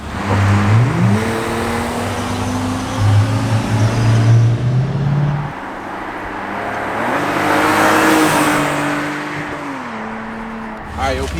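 A 1995 BMW M3 with a muffler delete revs loudly up and down close by, its exhaust note sweeping in pitch, with voices talking over it.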